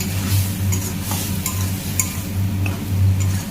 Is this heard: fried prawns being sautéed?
yes